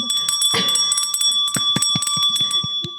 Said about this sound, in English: this bell is meant to signify the start of Song of the Week